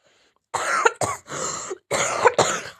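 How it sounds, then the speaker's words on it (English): Repeated coughing and throat clearing, about four harsh bursts close together, loud and near with no other sound around them. "That coughing is really annoying."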